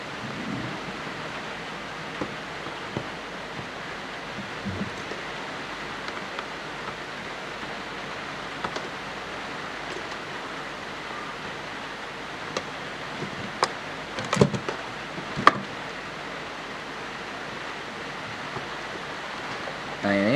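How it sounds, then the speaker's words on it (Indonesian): Steady rain hisses outdoors while a Korg Pa50SD keyboard is being repaired indoors. The broad, even wash of noise runs throughout, with scattered small ticks and knocks rising toward the end. "di sini berisik, kebetulan lagi hujan, jadi harap dimaklum"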